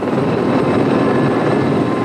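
A military helicopter in flight, its rotor and engine roaring loud and steady throughout the short stretch with a dense, constant throb and no voices.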